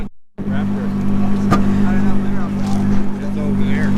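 A 2017 Ford GT runs on a cold start with a steady, loud low engine drone and a strong tonal hum that holds throughout after a brief quiet start, with a sharp click near the middle.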